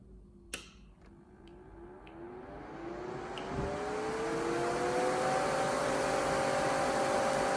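A Promed Nailfan Mini nail dust extractor at power level 2 spins up, its whine rising steadily into a louder, constant airy hum, after a few faint ticks at the start.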